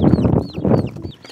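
Chicks on a farm give a quick burst of high, thin cheeps and peeps, close and loud, lasting just over a second.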